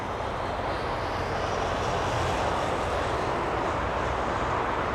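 Alaska Airlines jet arriving from Puerto Vallarta at Los Angeles International Airport, a steady loud broadband engine roar holding throughout without pause.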